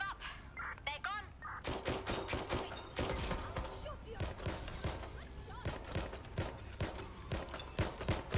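Rapid bursts of gunfire in Watch Dogs Legion crack out in dense, repeated volleys, sharp and close, continuing for several seconds with a few voices speaking between shots.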